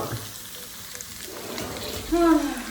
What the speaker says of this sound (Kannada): ಒಗ್ಗರಣೆ ಹಾಕ್ತಿರೋ ಖಾರ ಪೊಂಗಲ್